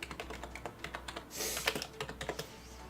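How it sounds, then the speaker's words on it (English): Fingers typing on what sounds like a mechanical keyboard, a rapid irregular string of close, crisp key clicks with a brief burst of quicker strokes, no talk. "I hear you typing over there."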